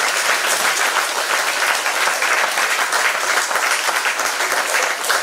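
Sustained applause from an audience at a Sri Raghavendrar Aradhana devotional gathering, steady and dense throughout with no pauses.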